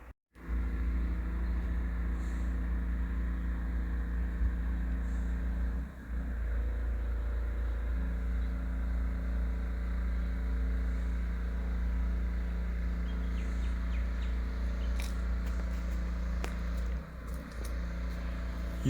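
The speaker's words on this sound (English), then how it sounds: "I think it's a generator, or oh no, it's a water blaster." Water blaster (pressure washer) running at a distance while cleaning silt from a pool, a steady low engine drone heard throughout with brief dips.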